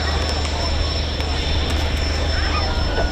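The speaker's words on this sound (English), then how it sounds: "You can hear those turbines winding down now, can't you" At the Old Buckenham airshow, an aircraft's jet turbines wind down as it rolls off the runway onto the taxiway, giving a loud, continuous engine roar with a faint high whine.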